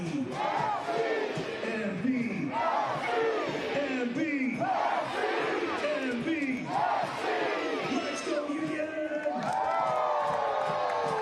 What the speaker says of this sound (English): Fans here cheering on Monterey Bay,